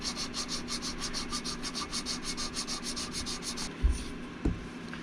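Engine valves on a Yamaha YFM225 being lapped with a lapping tool and grinding compound: a rapid, steady back-and-forth gritty rubbing for several seconds, then a couple of soft knocks.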